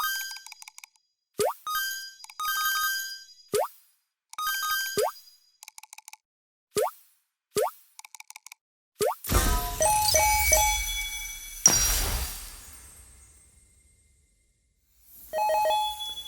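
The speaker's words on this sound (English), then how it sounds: "Here's a clip of a short game in which I've added sparkles to 8-bit sound effects." Short chirpy 8-bit arcade coin blips and zaps from a platform game repeat in quick bursts, followed by a brighter shimmering sparkle swell that fades, then another blip.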